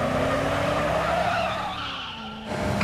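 A cartoon car with a modified engine skids, its tires squealing loudly and continuously over a roaring engine, the squeal easing briefly before rising again.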